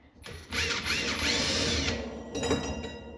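A power drill runs in a steady, loud whine for about a second and a half during a build, stops, then gives a shorter second burst.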